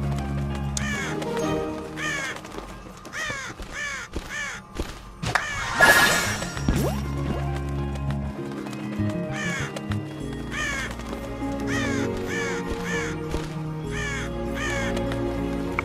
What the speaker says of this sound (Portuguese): É melhor pedir que os corvos saiam.